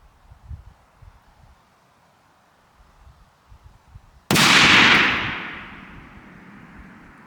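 A .308 rifle loaded with 200gr ELD-X bullets fires a single loud, sharp shot that booms and then decays over a couple of seconds, following quieter outdoor handling sounds.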